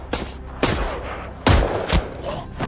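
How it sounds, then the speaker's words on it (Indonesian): Several heavy gunshots crack out in an irregular exchange in a war film, loud and close, with reverberant bursts between shots. "Baku tembak antara mereka berdua sangat sengit."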